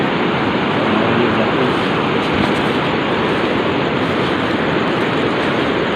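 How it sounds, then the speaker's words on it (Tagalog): Loud, steady rushing of a nearby river, a dense continuous roar with no breaks, close by and unchanging throughout. "Malapit sa ilog, ang ingay. Ang ingay ng ilog."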